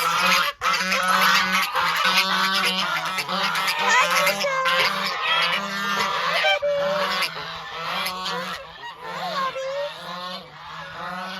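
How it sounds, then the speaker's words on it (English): Several geese honk loudly and repeatedly close by, overlapping calls filling the scene while a person briefly speaks among them. "Hopefully you'll be able to hear me over my geese."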